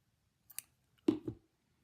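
Scissors snip the thread end during needle tatting: two short, quiet clicks about half a second apart in an otherwise silent room.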